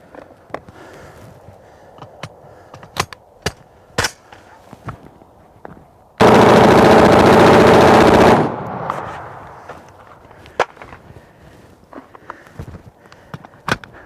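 An automatic rifle, an M16 or AK, fires one loud continuous burst of about two seconds, with scattered sharp clicks and knocks before and after.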